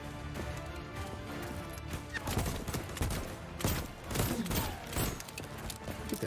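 Rapid gunfire in the video game Voidtrain, dense bursts of shots and crashing impacts layered over loud game sound, coming in clusters across the whole stretch.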